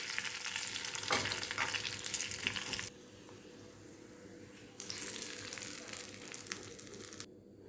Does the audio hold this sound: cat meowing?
no